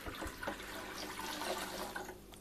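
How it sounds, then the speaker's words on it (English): Water pours steadily into a new fish tank, filling about two inches deep for a leak test, with a continuous close splashing and trickling and no talking. "this one goes in about 2 inches of water"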